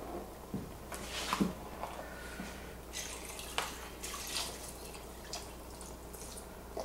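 Chicken broth, two quarts from cartons, pours into a soup pot for a creamy carrot tarragon soup. Close, gurgling splashes and drips come in uneven surges over a low background hum, with no speech.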